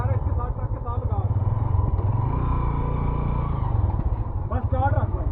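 An old motorbike idles and revs steadily at close range beside a parked truck, its engine a continuous low rumble with a brief throttle swell near the end, while people talk over it throughout.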